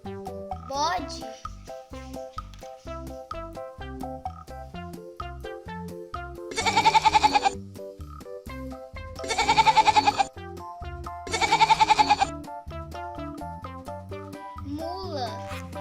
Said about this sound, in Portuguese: Bode.